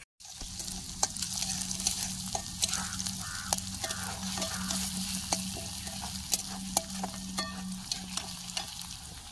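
Onions sauté in a pan over a wood fire outdoors as tomatoes go in, a steady sizzle broken by frequent sharp clicks and taps of stirring, with a low hum underneath.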